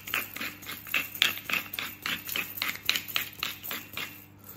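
A pepper mill being twisted over a leg of lamb gives a steady run of about a dozen close, crisp grinding clicks, quick and fairly even, with no talk.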